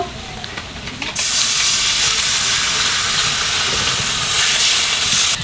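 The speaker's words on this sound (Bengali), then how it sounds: "এখন আমি পানি দিয়ে দিব" Water hits a hot pan of crab curry with onion and green chili in oil, setting off a sudden loud, steady steaming hiss that swells and holds close up after a quieter sizzle.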